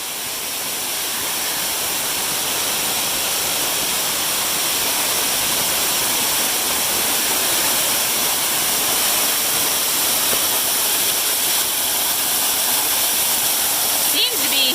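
Steady, dense roar of rushing water from a waterfall on the Fiery Gizzard Trail, South Cumberland State Park, loud and constant throughout with no breaks.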